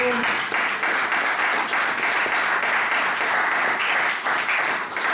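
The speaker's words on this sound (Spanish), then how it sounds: "Entonces quiero darle un aplauso." A church congregation applauds in a broad, even round of many hands clapping, sustained at moderate loudness throughout, with a brief voice heard at the very start.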